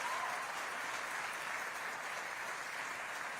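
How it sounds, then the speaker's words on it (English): A crowd at an outdoor groundbreaking ceremony for a semiconductor factory applauds local officials, a faint, even patter of clapping heard from a distance. "Let's give a round of applause to our local officials"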